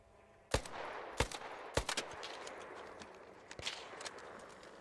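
Sharp, distant-sounding gunshots ring out in the video game Arc Raiders: a few evenly spaced single cracks, then scattered quieter shots over a low ambient rumble.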